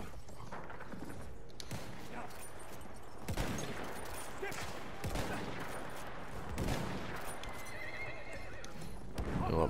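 Horse neighing and galloping in the video game Battlefield 1, with whinnies and clip-clopping hooves mixed among bursts of gunfire and battle noise.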